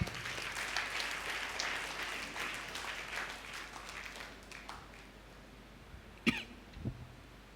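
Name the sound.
applause during church service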